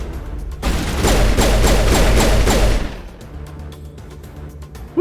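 Loud, close gunfire in the video game Mass Effect, a dense burst of rapid automatic shots lasting about two seconds before dropping off to a quieter background hum.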